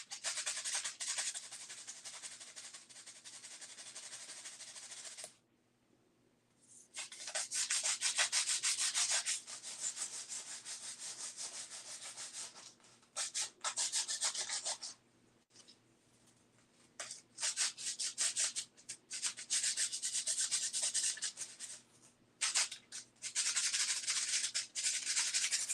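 Parts of an HO scale building kit are sanded by hand in long stretches of steady, close scratchy rubbing, broken by a few short pauses, with no talking.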